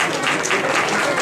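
An audience claps at a rally championship annual awards ceremony, steady dense applause at a moderate distance, with some indistinct voices mixed in.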